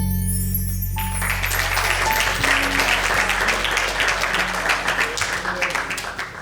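Audience applause at a live performance competition show, a dense sustained crowd clapping that swells and holds for several seconds, loud and close, with a voice briefly audible at the start.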